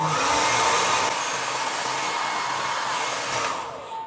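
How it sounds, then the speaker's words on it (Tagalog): A hair dryer blows on wet hair, a loud, steady whirring whine close to the microphone that holds for several seconds before easing off at the end. "i-blower natin yung ating buhok kasi nga hindi naman tayo matutulog ng basa yung buhok."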